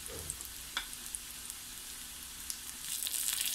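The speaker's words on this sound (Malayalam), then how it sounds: "ഞാൻ ഇപ്പോൾ എന്തായാലും ഉള്ളി അരിഞ്ഞ് താളിക്കുന്നുണ്ട്." Chopped onion frying in oil for tempering a raw plantain curry gives a soft, continuous sizzle with faint stirring clicks, quiet and close, swelling slightly toward the end.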